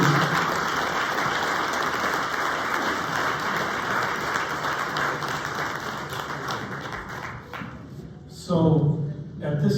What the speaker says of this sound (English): How about a big round of applause for all 3 of our interviewees?